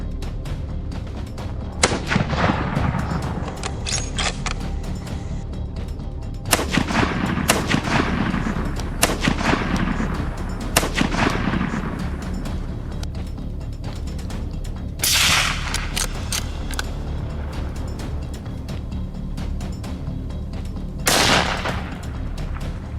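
Rifle shots ring out during a wild boar hunt, a handful of sharp, loud reports spaced several seconds apart, each trailing off in echo over a constant low rumble.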